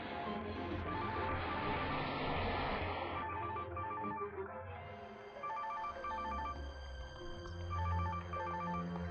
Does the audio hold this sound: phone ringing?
yes